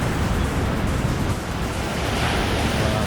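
High sea waves on the Okhotsk coast, a dense, steady roar of surf with wind buffeting the microphone, loud and continuous for the whole stretch with no voices.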